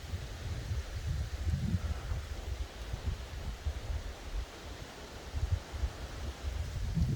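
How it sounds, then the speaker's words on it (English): Strong wind roars steadily through a storm-damaged site, a broad continuous rush with low gusty buffeting against the microphone and no voices. "It's getting pretty windy in here though."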